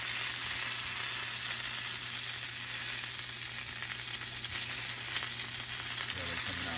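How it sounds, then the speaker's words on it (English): Beef bulgogi dumplings pan frying to golden brown, a steady, even sizzle of hot oil that holds close and constant throughout with no talking. "Perfect pan fry on them."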